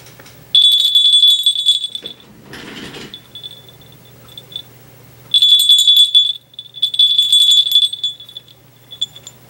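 A small crotal bell jingles in bright metallic bursts, shaken several times with pauses between, close and fairly loud, plus a brief rustle.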